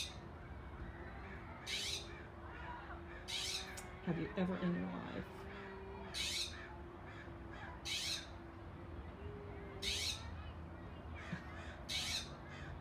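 A bird near a garden gives a series of harsh, crow-like caws, about six short bursts spaced a couple of seconds apart, moderately close, while a person talks in between.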